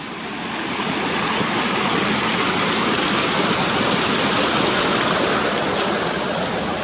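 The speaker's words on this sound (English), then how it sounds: "that's that river across." A river flowing near the ruins of Gunnerside mine, a loud continuous rushing roar that swells in over the first second and then holds steady.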